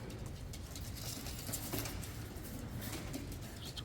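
Tippler pigeons at a young bird show, cooing softly amid a diffuse background of rustling and distant activity, with the calls faint rather than prominent.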